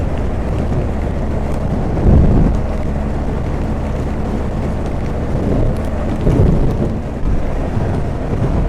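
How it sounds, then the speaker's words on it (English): Strong wind buffets the microphone in a low, rumbling roar, swelling in heavier gusts now and then, during a hailstorm while riding a BMW R1250GSA motorcycle. "Oh, the wind. I'm like trying to brace the bike up. The wind is rough."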